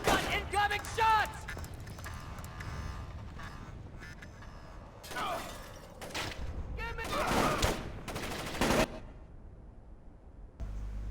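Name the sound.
gunfire in video game Splinter Cell: Chaos Theory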